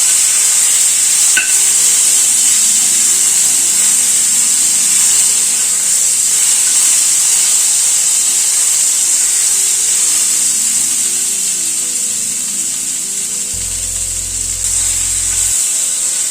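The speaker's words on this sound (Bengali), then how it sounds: "ঝিঙেটাকে আগে একটু হালকা করে ভেজে নেব।" Ridge gourd lightly fries in a pan over a medium-high gas flame, a loud, continuous, close hiss with faint scraping of a utensil throughout.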